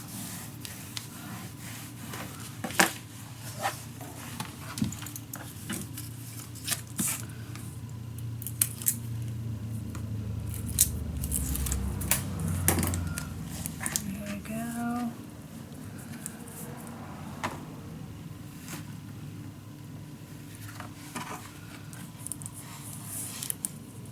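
Paper pieces on a steampunk Christmas mini album are burnished down by hand, giving close scraping and rubbing strokes with scattered taps and light handling noise.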